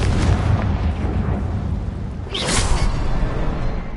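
A Confringo blasting spell in the video game Hogwarts Legacy lands as a single whooshing burst midway through a steady, rumbling roar of battle noise.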